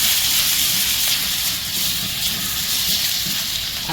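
Mushrooms, prawns and chicken sizzling together in a frying pan for soup, a constant bright hiss with a faint low bubbling underneath, close and steady throughout, with no voices.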